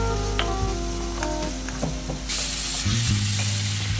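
Tomatoes with ginger-garlic paste frying in oil for a spinach (palak keerai) gravy give a steady, close sizzle that thickens into a brighter hiss partway through, with a low hum running underneath.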